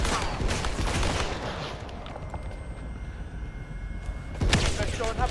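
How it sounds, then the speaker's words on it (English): One shooter fires a semi-automatic weapon in 007 First Light, a dense, steady run of sharp shots with a louder burst near the end. "Okay, so it's one guy, but he's firing on like semi-automatic."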